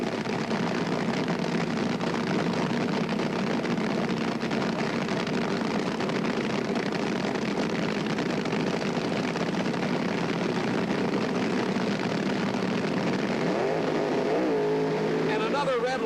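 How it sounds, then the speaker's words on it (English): Drag racing cars at the 1977 NHRA Gatornationals launching from the starting line, a dense, sustained engine roar that stays loud throughout before a revving pitch sweep near the end, with commentary talk over it. "Both cars approaching the staging beams."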